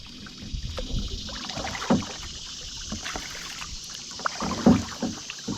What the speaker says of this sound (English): the first thing I noticed is how easy it is to paddle out here today, because there's just not much current